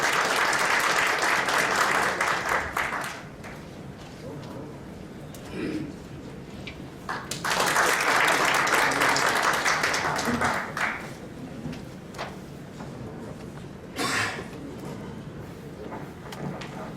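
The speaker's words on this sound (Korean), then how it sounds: "큰 박수 부탁드립니다." A crowd at a symposium applauds steadily, fades, then swells into a second round of clapping, with some murmuring in between.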